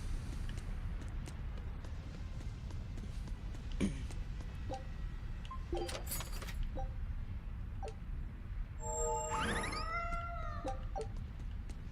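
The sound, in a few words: cat meowing in a box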